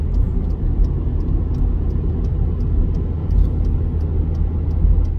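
A car drives along a slow road, with a steady low rumble of engine and road noise heard from inside the cabin and no talk.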